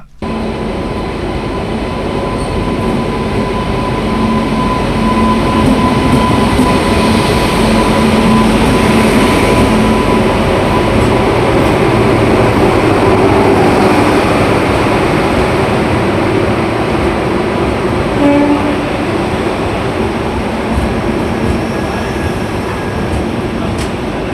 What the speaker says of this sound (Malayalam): കേരളത്തിലൂടെ ആദ്യമായി പരീക്ഷണോട്ടം നടത്തി ഡബിൾ ഡെക്കർ ട്രെയിൻ